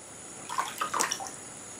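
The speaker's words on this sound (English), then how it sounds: "I'm going to go ahead and bend up and dunk in my cool water" A Harmany grazing muzzle dunked into cool water, giving a brief mid-clip burst of splashing and sloshing that lasts about a second, close and moderately quiet, with no one speaking.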